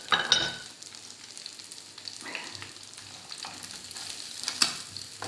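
Chicken wings sizzling as they fry in butter in a pan, a soft continuous crackle with occasional stirring scrapes and small louder spatters, close and fairly quiet.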